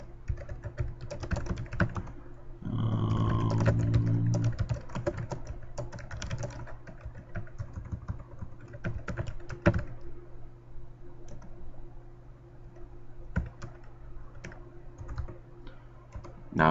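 Continuous typing on a computer keyboard, quick irregular key clicks with a few louder presses and a brief tonal beep early on.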